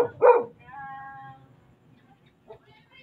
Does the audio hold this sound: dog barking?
yes